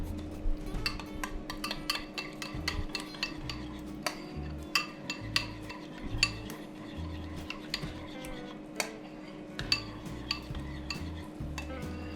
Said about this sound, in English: And you want to give that a mix